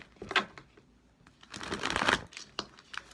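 Tarot cards shuffled and drawn by hand, a couple of quick close riffling bursts with soft card slaps and rustles in a quiet room, no voice.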